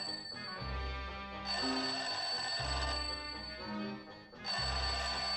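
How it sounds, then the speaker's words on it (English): A telephone rings in a radio drama, a loud, close bell trilling in repeated bursts with brief gaps between rings, heard alone without speech. "Sounds like the phone to me."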